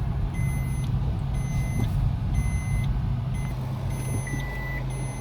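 A Toyota Glanza's reverse parking sensors beep in a steady repeating pattern of short high tones, heard over a continuous low rumble of engine and surroundings.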